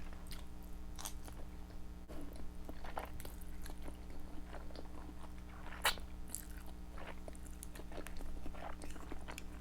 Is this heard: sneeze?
no